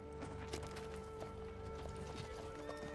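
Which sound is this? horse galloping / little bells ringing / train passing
horse galloping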